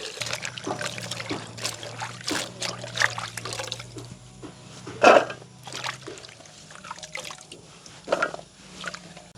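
Shallots being rinsed by hand in water in a village kitchen, quiet close splashes and dribbles in irregular bursts, with one sharper splash midway.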